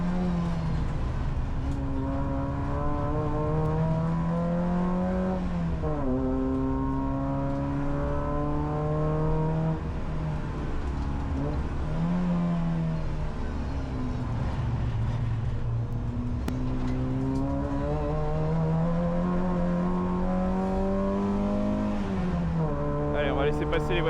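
Peugeot 405 Mi16 BTCC replica race car lapping a circuit, its engine loud and close, revving up through the gears and dropping off under braking in repeated cycles, with a voice talking over it.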